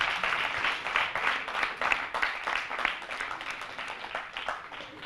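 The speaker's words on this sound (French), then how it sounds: "On applaudit Asma." An audience at a French school awards ceremony applauds steadily for a student, a soft, even patter of many hands heard from some distance.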